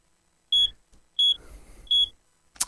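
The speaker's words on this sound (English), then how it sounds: "Ah, der Kohlenmonoxid-Alarm war an." A carbon monoxide alarm in the horror game Dark Nights with Poe and Munro gives three loud, shrill electronic beeps at even intervals, close by, with a faint rustle between them.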